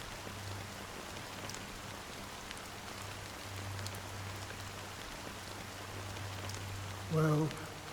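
Steady rain patters softly throughout a Honkai: Star Rail game scene over a low hum, with a brief voice sound near the end.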